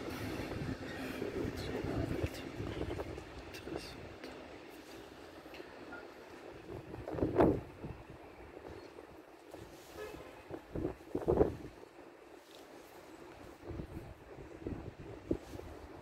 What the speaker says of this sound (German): es ist dieser gelbe Zug